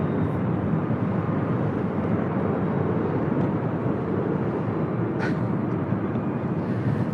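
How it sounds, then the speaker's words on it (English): A Delta Airlines Boeing 767-300ER departs LAX on a north-side departure, its engines a dense, steady, loud roar that holds unchanged throughout, with a single faint transient partway through. "That is Delta Airlines flight 670 heading to JFK"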